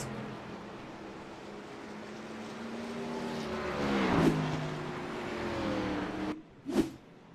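Race cars at speed in a sim racing game at Phoenix, a continuous engine drone with a pitch-sliding surge as a car passes close, then a brief sharp whoosh of another car near the end.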